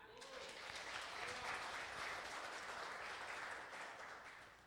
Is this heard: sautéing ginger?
no